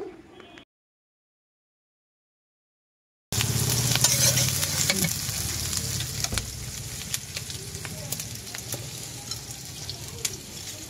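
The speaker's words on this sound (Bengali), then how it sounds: "চুলার উপরে পেঁয়াজ মরিচটা তেলে ভেজে নিচ্ছি।" Sliced onion and chilli frying in oil on a village clay stove: a loud, steady sizzle with stirring scrapes that begins abruptly after a few seconds of silence and continues to the end.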